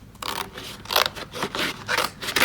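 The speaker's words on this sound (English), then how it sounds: "I want to cut that out" Close scissors cut out a stamped paper dinosaur for a card, a steady run of crisp snipping strokes following one another with short gaps.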